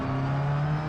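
An Audi TCR race car engine in a racing video game drones steadily at a near-constant pitch for under a second, with no talk.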